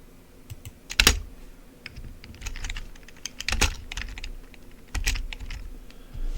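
Rapid computer keyboard typing with irregular clicks and several louder key strikes, close up and steady with no talking.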